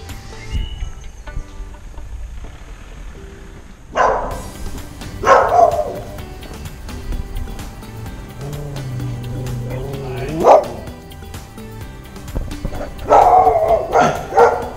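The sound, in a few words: dog barking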